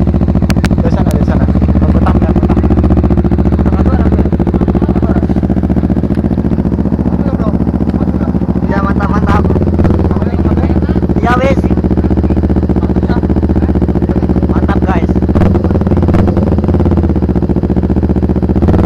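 Kawasaki Ninja 250 FI motorcycle fitted with an Austin Racing exhaust, its engine idling close by with a steady low rumble and a few brief revs, while people talk over it.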